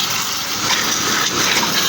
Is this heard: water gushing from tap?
yes